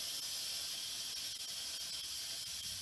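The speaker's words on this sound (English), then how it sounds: "I'm going to release the remaining pressure" Leftover pressure escapes from an Instant Pot holding cooked chicken, a continuous, even, airy steam hiss at moderate level with no talk over it.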